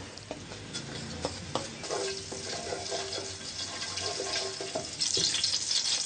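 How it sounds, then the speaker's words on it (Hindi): Cumin seeds sizzle in about a cup of hot oil at the start of a bathua and potato saag. A steady, close crackling hiss runs throughout, with occasional utensil clicks and stirring scrapes, swelling louder near the end. "अब हम इसमें जीरा डालेंगे"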